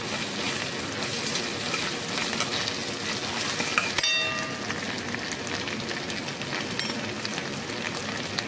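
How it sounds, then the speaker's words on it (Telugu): Ginger frying in hot oil with green chillies, onion, mustard seeds and cumin, a steady dense sizzle throughout with a brief metallic clink partway. "ఇందులో నేను అల్లం వేసుకుంటున్నాను. అల్లం కొంచెం ఫ్రై అవ్వాలి."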